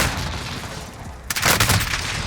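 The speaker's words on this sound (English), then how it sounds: "You want to shoot rockets?" An RPG rocket launcher fires in Call of Duty Warzone: a loud, broad blast bursts in about halfway through and rumbles on to the end, following a stretch of dense in-game noise.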